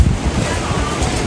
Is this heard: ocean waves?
yes